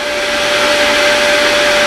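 A Vevor shop vacuum runs with its hose plugged, giving a loud, steady broadband roar with a constant whine held throughout, no talking over it.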